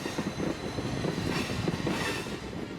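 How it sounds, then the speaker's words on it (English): A dinner train rolls along its rails through Kentucky distillery country, giving a steady, fairly quiet rumble with soft rhythmic clatter and faint wheel squeal. "We leave on our train"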